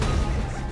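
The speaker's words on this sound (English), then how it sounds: "That was the bomb." A bomb blast in Saints Row The Third, a short, dense low rumble that is loud and close and stands alone with no talk over it.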